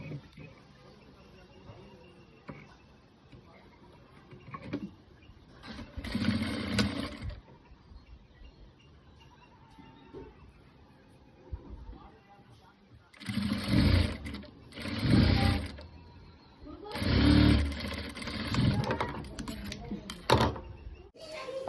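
Sewing machine stitching a normal gown, several short runs of rapid mechanical whirring a second or two long, separated by pauses, with someone talking between the bursts.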